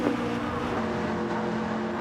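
Race cars in a circuit racing video game run through a chicane at a seaside track, a steady, loud engine drone with passing cars and slight tire noise throughout, no voices.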